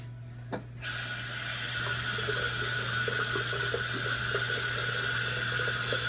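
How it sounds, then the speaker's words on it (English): Water runs steadily from a tap into a sink as soap is rinsed off, a continuous close hiss after a brief quiet start. "I'm gonna rinse one more time."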